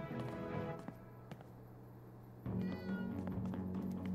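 A cat meows in the Life is Strange: True Colors video game, a couple of short calls over quiet background music and ambience.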